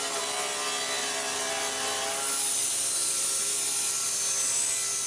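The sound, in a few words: sawing wooden board in two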